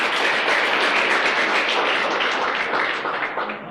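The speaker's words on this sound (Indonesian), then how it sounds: "Kita beri tepuk tangan buat videonya." Sustained audience applause at a motivational seminar, dense and steady clapping from a large crowd that fills the whole stretch and tapers slightly at the end.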